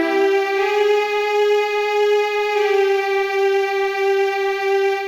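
A keyboard plays the opening line of a theme as a slow, sustained melody of held tones, clear and steady with no talking over it.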